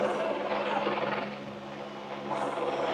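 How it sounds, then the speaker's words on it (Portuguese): A helicopter hovers directly overhead in an outdoor square in Rondônia, giving a continuous rotor drone that swells and eases slightly, steady for the whole stretch with no talk. "A gente tá chique, o helicóptero tá aqui olhando a gente"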